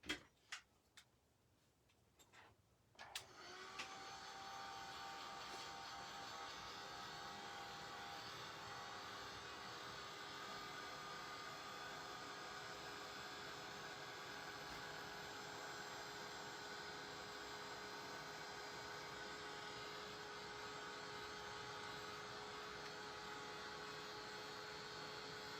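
A heat tool for embossing powder on craft cards switches on after a few quiet seconds, then blows with a steady, loud, unbroken whir that runs to the end with no talking.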